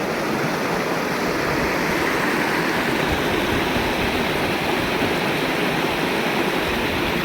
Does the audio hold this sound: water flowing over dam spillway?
yes